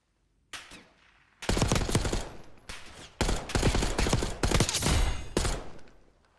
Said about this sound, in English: How much harder is that gunfire for you?